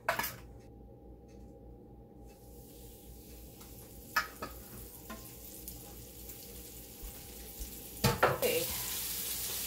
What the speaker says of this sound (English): get this last piece of fish in the flour so that can go in the frying pan